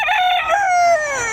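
A rooster crows once in a long, loud, harmonic call, close by, amid the general noise of a livestock auction market at Padre Garcia, Batangas, where chickens are sold.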